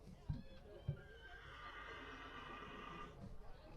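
A horse whinny sound effect plays over a ballpark's speakers at a Swift Current 57's game in Weyburn, a long, wavering neigh, faint and distant, following two dull thuds amid low crowd murmur.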